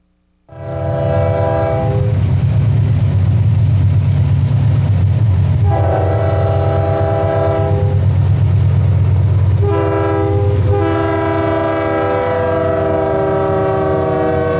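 A Southern Pacific freight train on the Tucson to Lordsburg line rumbles past loud and close, its multi-chime horn blaring in three long blasts over the steady roar of engines and rolling cars.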